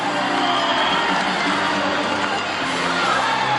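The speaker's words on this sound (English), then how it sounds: "But your cheers are not loud enough, girls. Let's hear it once again. That's right, cheer on." Loud crowd of girls cheering and shouting at a Marineland marine park show, a dense continuous roar of voices with whoops throughout.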